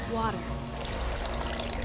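Water pours into a blender for a peanut butter, cashew and flaxseed smoothie, a steady close splashing stream with a brief rising gurgle at the start.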